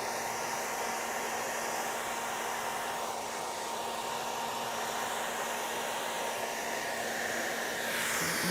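A hair dryer blows steadily and continuously, a close, even whooshing roar with a faint motor hum and no voices.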